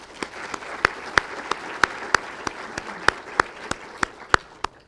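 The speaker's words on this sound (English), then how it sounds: "So if I can give them a round of applause." At a city event, the audience claps for city staff in a sustained applause wash, with sharper individual claps popping out at a steady beat above the crowd noise.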